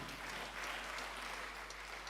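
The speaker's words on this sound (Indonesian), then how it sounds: "Enggak tepuk tangan buat jemaat HKBP." Steady applause rises from a church congregation at an HKBP Batak-language service in Rawamangun, a dense, even clatter of clapping that holds for the whole stretch with no voices over it.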